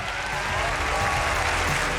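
Audience applause fills a televised singing competition stage after a duet performance, a steady dense clapping wash from start to finish with no voices on top.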